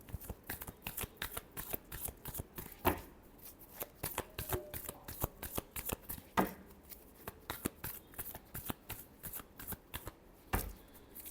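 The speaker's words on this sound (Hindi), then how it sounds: "Last shuffle." Tarot cards are shuffled steadily and briskly, a close run of rapid riffling and slapping card sounds with a few heavier thumps, and no talking.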